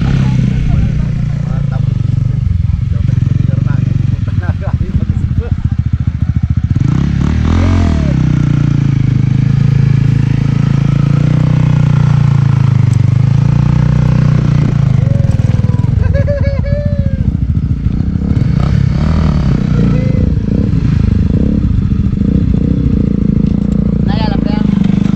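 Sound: motorcycle being ridden up to campsite

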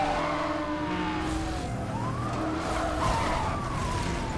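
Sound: Mazda RX-8 car engine in Need for Speed Hot Pursuit Remastered video game

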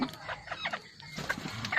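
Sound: chickens clucking, crossbred decoy jungle fowl

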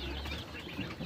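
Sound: chickens clucking in a coop

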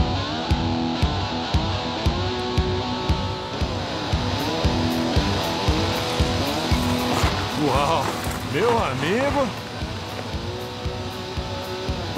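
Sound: Cadillac car driving up and arriving

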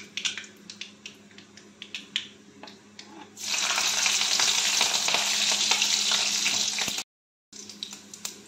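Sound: chillies frying in mustard oil

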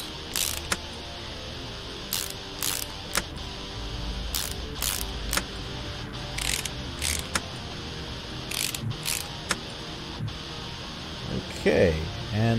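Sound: screwing a module back on, from the video game Car Mechanic Simulator 2018

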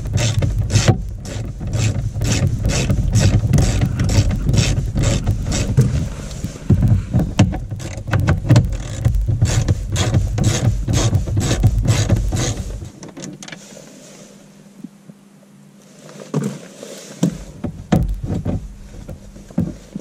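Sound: ratchet undoing 8mm glovebox bolts in an Audi A3

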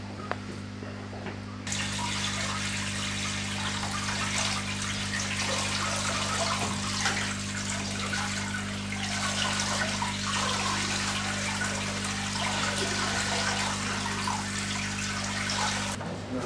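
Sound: water pouring into a new aquarium

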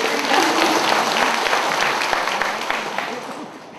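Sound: audience applause

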